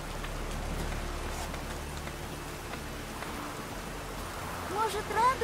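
Steady rain falls in The Witcher 3: Wild Hunt, a constant hissing patter with low rumble underneath, and a voice briefly joins near the end.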